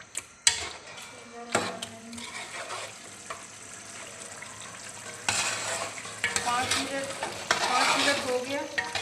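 Chicken for pulao fries in a pot with a lid on, sizzling unevenly while a utensil clinks and stirs; the sizzle swells louder toward the end as the pieces are turned.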